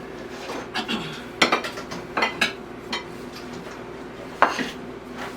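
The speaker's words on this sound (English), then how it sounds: "I'm going to go ahead and stir up this pancake mix." A utensil clinks and knocks against a bowl while self-rising pancake batter is mixed, irregular close taps and scrapes scattered over a quiet kitchen hum.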